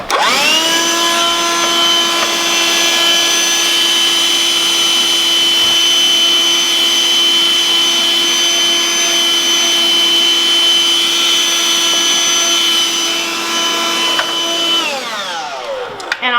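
A vacuum cleaner removes caked-on dust from a Nurture Pro 360 incubator, running as a loud, steady motor whine with a constant pitch for about fifteen seconds and then winding down near the end.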